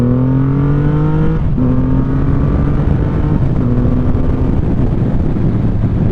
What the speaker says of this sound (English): Terrifying motorcycle.